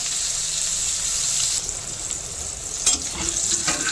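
Pieces of pointed gourd coated with salt and turmeric fry in hot oil in a pan, giving a steady, fairly loud sizzling hiss with a brief clatter of the pieces being moved partway through.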